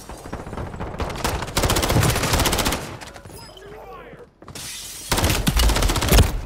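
Rapid video-game gunfire from a Bryson weapon, sounding as loud, dense automatic bursts that drop briefly to a quieter gap with faint mechanical sounds, then resume.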